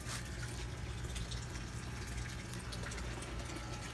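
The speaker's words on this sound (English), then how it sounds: "Let's rinse them off in the bait tank." Water runs and splashes steadily in a bait tank as live lizards are rinsed off, a continuous close wash of liquid with no talk.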